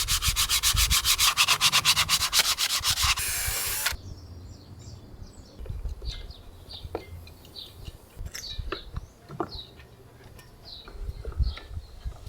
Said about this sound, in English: he just scuff the surface, bunch of Sika to glue it, and some screws